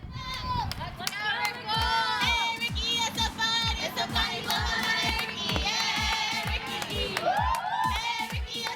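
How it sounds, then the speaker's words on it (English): Softball players in the dugouts cheer in coordinated chants, with many young voices shouting together over a steady rhythmic stomp or clap beat that runs all the way through, loud and close. "all the cheering in the dugouts"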